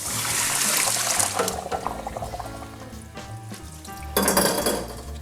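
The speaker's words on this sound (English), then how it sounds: "So I'm gonna drain this out and then throw this on a prepared pan" Water running and splashing as soaked potato slices are drained for homemade potato chips, with clinks of dishes and pans in a kitchen, fairly loud and steady with a louder gush near the end.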